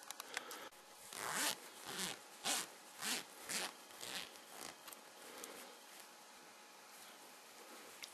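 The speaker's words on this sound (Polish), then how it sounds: "Oczywiście tutaj mamy taki zamek błyskawiczny, który się rozpina oczywiście." A red Mighty Morphin Power Rangers Morphsuit costume has its zipper pulled open, with a series of quick ratcheting zips in uneven bursts that fade to quieter rustling, heard close up and on their own.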